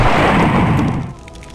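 Dense, loud blasts and bursts from the Brutal Doom mod for the video game Doom fill the opening second with a continuous barrage, then ease into a quieter rumbling tail with scattered crackles.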